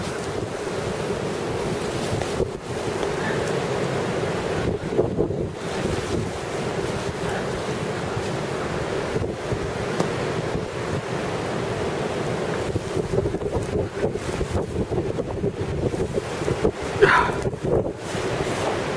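Steady roar of surf and strong wind at a beach during a blizzard, with constant wind buffeting the microphone and waves breaking continuously throughout.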